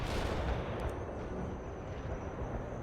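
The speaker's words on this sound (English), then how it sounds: "Firing for effect. Over. Good work with the coordinates. Enemy destroyed. A perfect artillery hit." Artillery fire in the video game World in Conflict: a steady, dense roar of distant bombardment with continuous rumbling booms, loud and unbroken, no voices.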